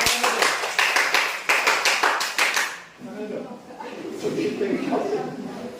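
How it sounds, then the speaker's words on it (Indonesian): A classroom group claps together in several short rhythmic bursts for about three seconds, fairly loud and close, then the clapping stops and a voice talks. "Oke, tepuk tangan dulu untuk semua."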